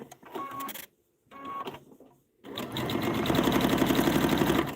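A sewing machine stitching quilt star blocks: two short bursts of needle chatter broken by pauses, then a longer steady rapid whirring run, loud and close.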